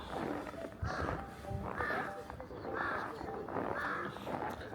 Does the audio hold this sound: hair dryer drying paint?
no